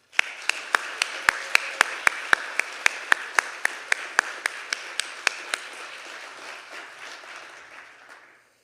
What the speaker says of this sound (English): a huge round of applause for everyone in this room